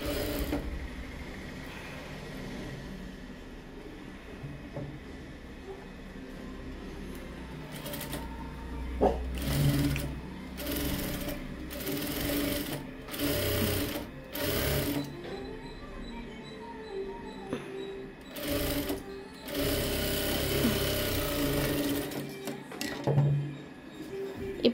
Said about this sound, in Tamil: இப்போது நீங்கள் வந்து சிங்கிள் ஃபோட் வச்சு அந்த பார்டர்கிட்ட ஒரு ஸ்டிச் வந்து பண்ணிடணும்.